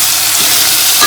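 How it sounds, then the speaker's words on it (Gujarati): Elephant foot yam (suran) pieces in hot oil give a loud, dense, continuous sizzle close up, with no voices. "આપણે સુરણ નાખી દીધું તેલમાં તળવા માટે."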